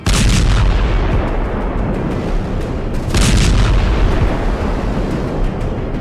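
Russian Iskander missile strikes hit a residential area of Kharkiv, Ukraine, producing a loud, continuous booming roar that surges twice, with heavy low rumble and no voices.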